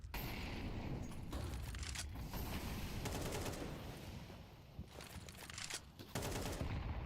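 Gunfire crackles through a Counter-Strike match, with rapid automatic bursts and scattered single shots. The firing sounds somewhat distant and muffled, comes in uneven clusters over a steady background, and has no talk over it.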